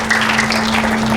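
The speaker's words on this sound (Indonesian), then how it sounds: "Yang percaya berikan sorak-sorai buat Yesus yang dahsyat luar biasa." A church congregation cheering and applauding during a revival service, a dense, steady wash of clapping and voices throughout, with a constant hum beneath.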